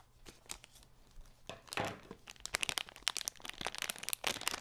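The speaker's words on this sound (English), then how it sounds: "Then I have to use the scissors on this one" Crinkling plastic packaging with sharp snips and crackles, irregular bursts growing busier and louder toward the end, close up with no talking.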